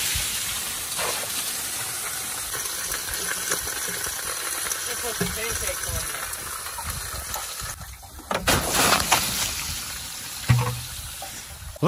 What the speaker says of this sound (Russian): Черт, там просто все кипит.